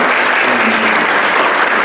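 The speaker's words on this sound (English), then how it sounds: "will you just simply clap and say," Loud, close applause from a church congregation during a pastor's installation service, a thick, continuous wash of clapping filling the whole brief moment.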